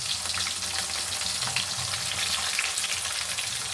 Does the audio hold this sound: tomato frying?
yes